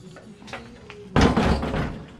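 A heavy steel door on a Tri Five Chevy being set in place during a four-door to two-door sedan conversion, a single loud metallic thunk after faint shop sounds, followed by a brief clattering rattle.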